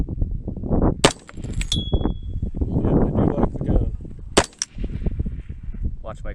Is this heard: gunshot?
yes